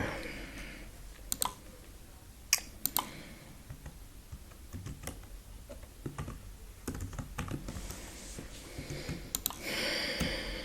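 Someone types on a computer keyboard while refactoring Python code, with irregular bursts of crisp key clicks and a few sharper louder taps spread over the stretch, close and without talk.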